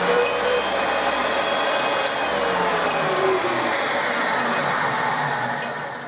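A Wolf VR5 valve refacer runs with its base-mounted motor driving a belt and crowned pulley, giving a steady, loud whirring whine with a faint shifting tone, close by and without talk.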